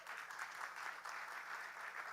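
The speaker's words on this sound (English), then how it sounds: "Let's give him a round of applause." Crowd at a Motzei Shabbos kumzitz gives a round of applause, a continuous, even wash of many clapping hands heard faintly and at some distance, with no voices over it.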